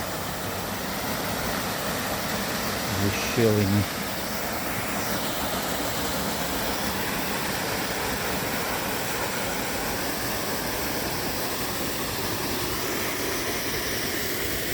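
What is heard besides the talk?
small waterfall rushing in a mountain forest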